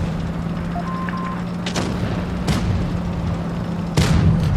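A WZ 122-TM tank cannon fires shells in a video game, three sharp booms spaced over a few seconds above a steady engine drone.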